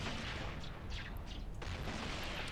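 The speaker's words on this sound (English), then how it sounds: "And as soon as we're in range, we can start firing." Ship weapons firing in a space battle in EVE Online, heard as dense, continuous rumbling bursts with a few sharper higher cracks over a steady low roar, fairly loud and with no talk.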